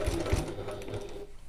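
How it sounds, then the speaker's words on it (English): A flatbed sewing machine stitches a bag close to the edge, a brief run of quick, rhythmic mechanical clatter heard up close and alone. "I'm sewing at 1/8 of an inch or 3mm from the edge"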